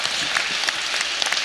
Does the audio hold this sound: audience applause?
yes